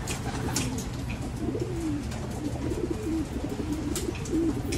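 Soft, repeated cooing of pigeons in a loft over a steady wash of rain, the low calls rising and falling throughout.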